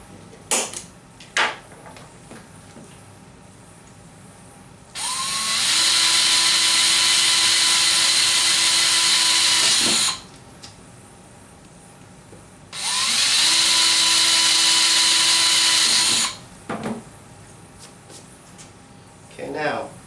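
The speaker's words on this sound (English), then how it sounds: "drill just 2 1/8 holes" A power drill bores two 1/8-inch holes in two separate runs of several seconds each, loud and close, with quiet gaps and faint handling noises between them.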